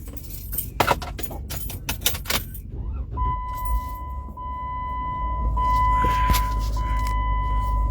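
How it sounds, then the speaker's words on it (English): Keys rattle and the ignition is turned on a car. After that the engine idles as a low, steady rumble with a faint electrical whine, and it grows slightly louder toward the end. "Let's turn on the car"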